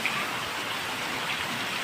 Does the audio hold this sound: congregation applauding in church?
no